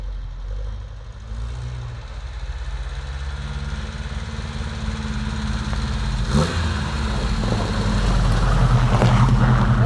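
A Volvo 145 car engine runs in winter snow, a close, low, droning hum that builds steadily in loudness as the car pulls away, with no one speaking.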